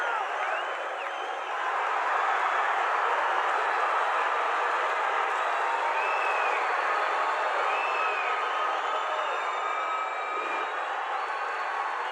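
An arena crowd in the Fight Night boxing video game roars after a knockout, a broad sustained cheer and applause wash lasting throughout under a commentator's voice.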